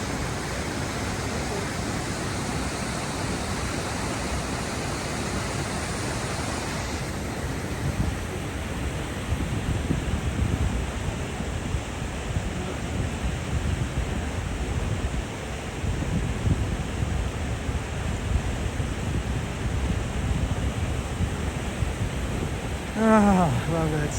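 Continuous broadband rush of river water in Glacier National Park, steady and fairly loud for the whole stretch, with no clear voices over it.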